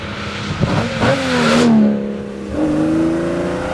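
A Ferrari 250 Testa Rossa engine revs hard while driving, rising to a loud wailing peak, dropping as the gearbox is worked, then climbing again, heard close and alone with no talk.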